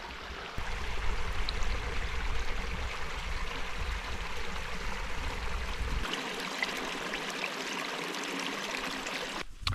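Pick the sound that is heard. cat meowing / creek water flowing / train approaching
creek water flowing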